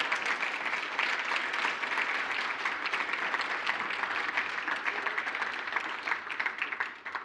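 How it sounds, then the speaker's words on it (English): Sustained applause fills a mathematics foundation annual awards function, a steady dense wash of clapping from a large seated audience that holds for about seven seconds before starting to thin at the very end. "A round of applause for Ralph."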